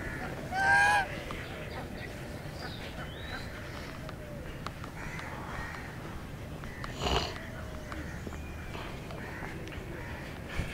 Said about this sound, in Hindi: ये बड़ी बतखें हैं